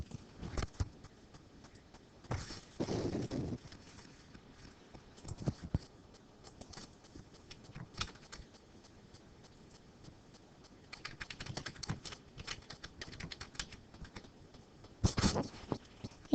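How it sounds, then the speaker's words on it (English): Fingers type text on a computer keyboard, quiet close key clicks in irregular bursts with short pauses between them. "I'm going to type in my author"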